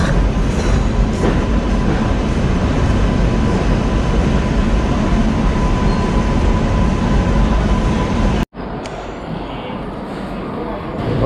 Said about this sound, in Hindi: और हमारी ट्रेन आप देख रहे हैं 5 नंबर पे आई है।